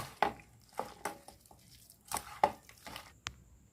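Marinated chicken and rice flour are mixed by hand, giving irregular wet squishes and soft slaps in short bursts, close up with no talking.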